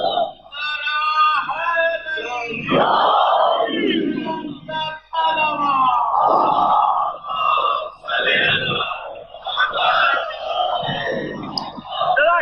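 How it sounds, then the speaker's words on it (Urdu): At a Shia religious gathering, a loud congregation chants devotional slogans such as Allahu Akbar and Ya Rasool Allah in unison, rising call-and-response bursts with brief pauses between them. "اب آپ تینوں نعرے لگائیے"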